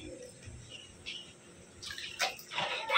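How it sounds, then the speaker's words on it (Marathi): Water is poured into a tub, heard as a brief, fairly faint splashing gush toward the end after a quiet stretch with faint background chirps. "टबमध्ये पाणी टाकून दिलं."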